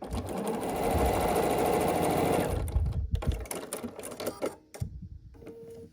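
Sewing machine stitching a quilt block onto a strip for an autumn table runner, a dense steady whir for a few seconds before it slows into scattered clicks and knocks as the sewing stops.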